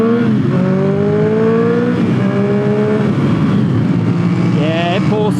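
A Triumph Street Triple R motorcycle with an aftermarket full exhaust accelerates hard, its engine note climbing through the gears, loud and continuous under wind noise.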